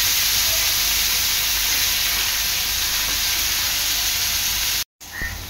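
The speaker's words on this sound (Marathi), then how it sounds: "कांदा आहे ना आपला चांगला लाल होईपर्यंत शिजवून घ्यायचा आहे।" Onion frying in a pan, a steady broad sizzling hiss that holds evenly for several seconds before a brief cutoff and a quieter restart.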